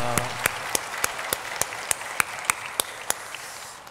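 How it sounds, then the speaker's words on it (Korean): A church congregation applauds the choir and chamber orchestra, a soft bed of clapping cut by one crisp, evenly spaced clap about three times a second that stands out near and loud. "격려의 마음으로 박수로 격려하겠습니다."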